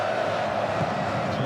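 Dense, steady roar of a huge football stadium crowd cheering at the 2013 A-League Grand Final between the Wanderers and Mariners at Sydney Football Stadium, a continuous wash of voices.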